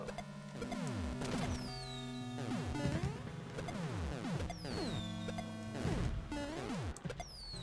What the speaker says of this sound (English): A lot of fireworks happening here.